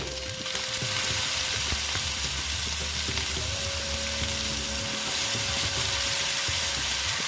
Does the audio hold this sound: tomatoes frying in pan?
yes